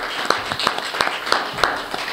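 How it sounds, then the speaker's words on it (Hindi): A church congregation at a Hindi-language sermon clapping loudly for God, steady rhythmic claps roughly three per second, crisp and close, with no talking. "आए एक बार जोर से ताली बजाएं परमेश्वर के लिए।"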